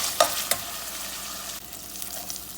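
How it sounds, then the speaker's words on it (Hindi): Chicken fries in a blended spice paste with a soft, steady sizzle, broken early by a couple of sharp clacks from stirring. "अब मैं ये भून रही हूँ अपनी चिकन"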